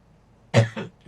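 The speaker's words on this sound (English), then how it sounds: "excuse the coughing" A single harsh cough bursts out close by, followed a beat later by a second, smaller cough, with quiet before and after.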